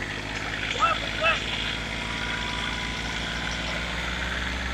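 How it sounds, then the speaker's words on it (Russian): A tractor engine drones steadily at a low idle-like rumble while its wheels slip during rotary tiller field testing, with a couple of brief higher chirps early on; a voice is present faintly. "Буксует трактор."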